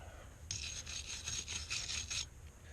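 Old residue being scrubbed off pipes before a new valve is fitted, a series of short, faint, raspy rubbing strokes in quick rhythm, close by and with no talk.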